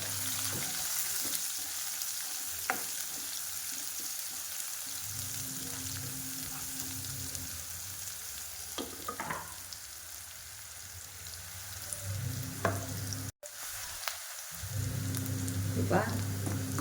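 Chopped garlic and onion fry in a pan for restaurant-style lasuni methi, giving a steady close sizzle with occasional stirring clicks and a brief dropout near the end.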